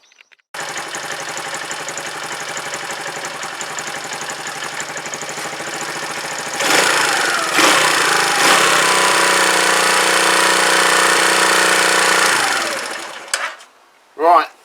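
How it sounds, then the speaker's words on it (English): A Zontes Tiger 125 motorcycle engine idles steadily while warming up, a loud, even mechanical buzz that gets louder partway through and then cuts out near the end. "let me just get this engine warmed up"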